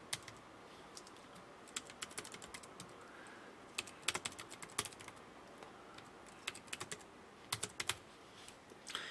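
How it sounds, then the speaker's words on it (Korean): Typing on a computer keyboard while entering data into an Excel spreadsheet, close and faint irregular key clicks in clustered bursts with short pauses between them. "타이핑부터 치겠습니다"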